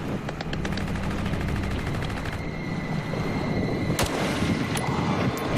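Rapid bursts of automatic gunfire rattle continuously during a pirate attack in Somalia, with a few sharper individual shots cracking out toward the end, fairly close and loud.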